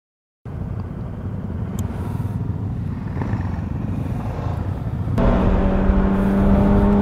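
A group of motorcycles, including a Honda R250, a CB400 Super 4 and a supermoto, rumbles on the road, the steady engine drone starting abruptly and swelling louder as one bike revs higher near the end.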